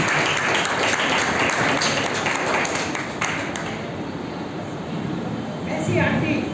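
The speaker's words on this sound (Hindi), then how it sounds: "सब ताली बजाएंगे।" Sustained applause from a congregation welcoming pastors and elders at a church gathering, dense and fairly loud, easing slightly midway and swelling again toward the end, with voices faintly mixed in.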